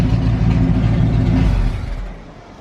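A Ford Mustang V8 fitted with an H-pipe and no mufflers roars loud and close in a raw rev, then the engine note drops away over the last second.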